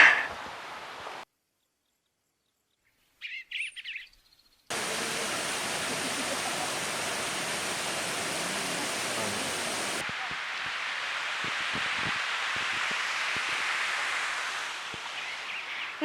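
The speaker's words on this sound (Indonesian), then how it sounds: "akhirnya kita sampai di dasar lembah untuk menikmati air terjun Ketol ini" Ketol waterfall at the bottom of a valley gives a steady, loud broadband roar of falling water that runs unbroken for several seconds, after a few quiet gaps at the start.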